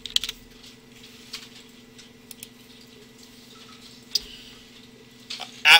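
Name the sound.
typing on a computer keyboard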